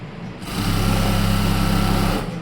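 Sewing machine running a short burst of stitches through fabric for a one-piece dress, a close, fast whirring buzz that spins up, holds steady for under two seconds, then winds down, with no voices.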